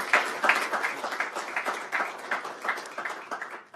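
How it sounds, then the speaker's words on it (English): Applause from a seated audience at a university event for an online justice announcement, brisk, dense and fairly close, fading out after a few seconds. "A big round of applause, please, for Michael Benarak."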